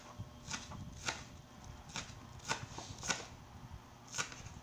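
Knife chopping green onions finely on a board, a series of soft, fairly regular taps, faint and close, with no voices.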